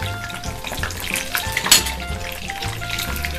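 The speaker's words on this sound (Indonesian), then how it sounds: "Goreng sampai setengah matang." Chili, shallot, garlic, tomato and shrimp paste sizzle in hot oil for sambal, a continuous crackling fry with occasional stirring scrapes, close and fairly loud, with no talk.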